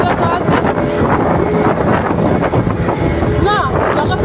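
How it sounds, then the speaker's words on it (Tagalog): Strong wind roars steadily across the microphone near the ship MV Maria Rebecca as it is driven toward collision, a loud continuous rush with faint voices and a brief high whistle partway through. "lakas ng current ng hangin"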